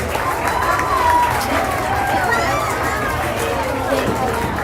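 Crowd noise and clapping at a school graduation ceremony as a 7th grade class leaves the stage, a steady wash of applause mixed with murmuring chatter throughout.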